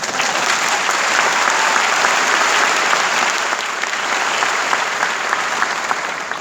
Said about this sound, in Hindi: रुकिए रुकिए, तालियां थामिए जरा, तालियों को बचा के रखिए